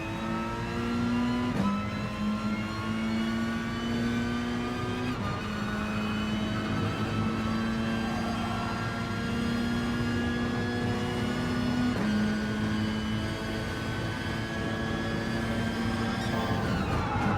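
Peugeot RCZ Group 4 race car engine in Gran Turismo at Monza, a loud steady high-revving drone with a few sharp gear-shift drops and pitch climbs, heard alone without talk.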